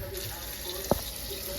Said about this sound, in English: Get some hot water going.